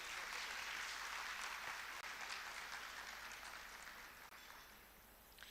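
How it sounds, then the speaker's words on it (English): An audience at a Cambridge teachers conference in Pakistan applauds the panelists, a broad, sustained wash of many hands clapping that holds steady for over five seconds and tapers slightly near the end, heard from a distance and faint. "Can we please have a big round of applause for all of them?"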